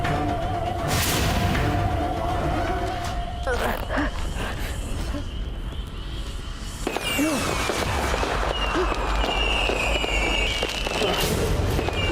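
Loud, continuous crackling and popping of firecrackers fills the scene, with occasional whistling rockets and booms layered into a dense, noisy barrage.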